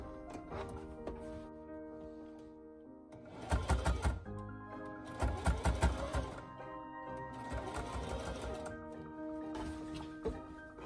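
A sewing machine stitches bias tape around a garment armhole, running in short bursts of quick, close mechanical whirring and clatter separated by pauses and faint background hum.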